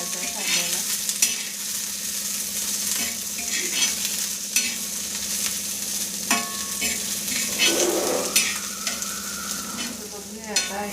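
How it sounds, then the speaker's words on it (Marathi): Chopped onions frying in a pan and being stirred, a close continuous sizzle broken by repeated scraping and clinking strokes of the spoon, no talking. "आणि हे चिरलेले कांदे टाकूया त्याच्यामध्ये. त्याला आपण थोडंसं लालसर होऊ द्यायचं आहे कांद्याला"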